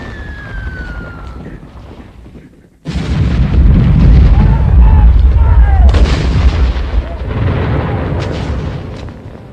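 Heavy World War I artillery fire booms at Verdun: loud, rolling cannon blasts and explosions pile up into a dense continuous roar after a sudden onset, with a faint voice beneath.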